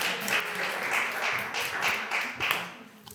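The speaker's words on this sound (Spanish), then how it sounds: "un aplauso a León Felipe" An audience at a history talk claps in applause for the poet León Felipe: a short burst of fairly close hand clapping, a few distinct claps standing out from a modest wash, fading after about three seconds.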